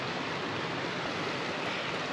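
A brook flows beside a walking trail, a steady broadband rush of running water, even and continuous, heard close with no voices.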